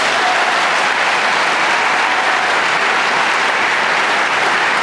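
Sustained audience applause fills a graduation commencement ceremony, a dense, steady wash of clapping hands that holds at full loudness for several seconds with no voices breaking through.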